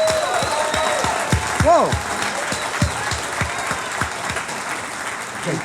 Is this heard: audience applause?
yes